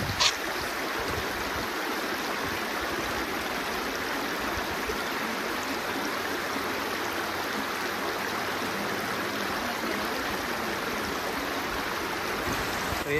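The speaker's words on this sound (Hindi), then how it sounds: "झरना काफ़ी धीमी गति से निकलते हुए जा रहा है नीचे की ओर" Waterfall near Bhimashankar flowing slowly downward, a steady broad rush of falling water heard continuously at moderate distance with no voices over it.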